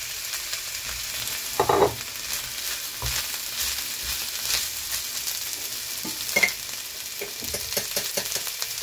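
Chopped onion, ginger and garlic sizzle in hot oil with a dense, steady hiss. Two louder clanks of a spoon against the pan and frequent stirring scrapes come through.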